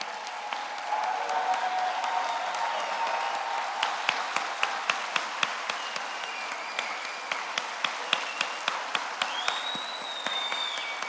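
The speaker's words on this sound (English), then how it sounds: "Can you guys stand so we can applaud you again?" An audience applauds the standing alumni class of 1975 at a celebration. Sustained, somewhat distant clapping from a crowd runs throughout, with sharper individual claps standing out and a few whoops rising near the end.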